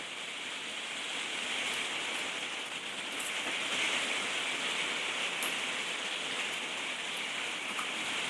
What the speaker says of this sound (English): You might even be able to hear the rain outside.